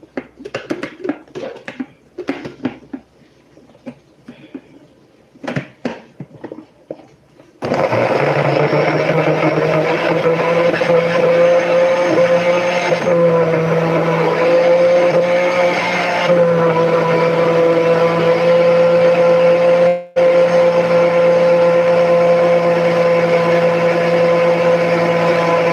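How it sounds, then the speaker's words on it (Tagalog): A kitchen blender runs during home cooking, switching on after some scattered clatter and then whirring loudly and steadily for the remaining time, with a brief dip near the end. "Blender ko po siya"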